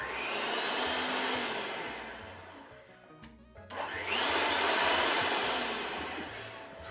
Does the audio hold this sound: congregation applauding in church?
no